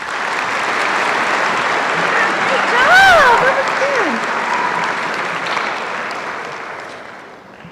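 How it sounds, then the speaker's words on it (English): A school assembly audience breaks into sustained applause, a dense wash of clapping that swells and then slowly fades, while a person speaks briefly over it. "Please welcome, with a round of applause,"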